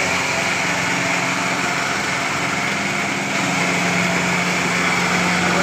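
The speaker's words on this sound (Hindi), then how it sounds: "वो देख क्या जा रहा है हमारा ट्रैक्टर भाई" A Mahindra tractor engine runs steadily and loudly throughout, a constant mid-pitched drone with a low hum, slightly rising toward the end as it drives off outdoors during a friendly tractor tug-of-war.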